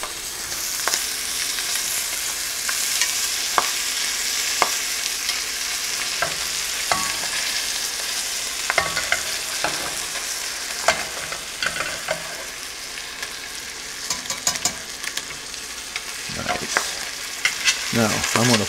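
Wild-caught Alaskan salmon pan-sears in butter with a loud, continuous sizzle, and scattered clicks and scrapes of a utensil stirring and shifting the fish break through it. Nobody speaks.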